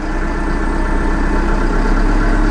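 A vehicle engine held at 1500 RPM with a hand throttle gives a steady, even mechanical drone with a low rumble, constant throughout and close by.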